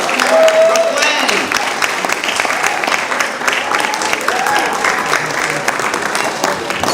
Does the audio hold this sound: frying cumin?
no